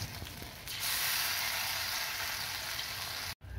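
Lentil fritters (bora) drop into hot oil in a wok. The oil breaks into a loud, steady sizzle that holds for a few seconds and then cuts off briefly near the end.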